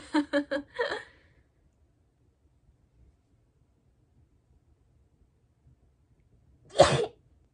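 A short burst of quick bright sounds opens, then after a quiet pause a single sharp, close sneeze bursts out near the end.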